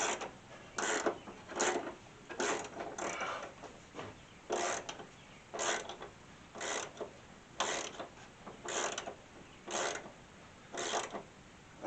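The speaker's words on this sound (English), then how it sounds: "I'm going to get my gear wrench, and as much as I can, making sure I'm not spinning the shaft, I'm going to tighten it up" A gear wrench ratchets while tightening a shock absorber nut on a 1964 Ford Falcon, giving repeated bursts of quick clicking in a steady back-and-forth rhythm, close and clear.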